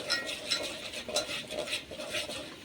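Dal poured into a red chilli masala tempering on a wood-fired stove, a close, fluctuating sizzle with stirring and light scraping of a spoon against the pot, no talking.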